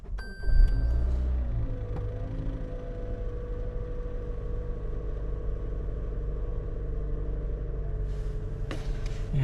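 A 2019-2025 Toyota RAV4 engine turns over with a brief burst, then settles into a steady, low idle rumble that holds for several seconds, with no voices.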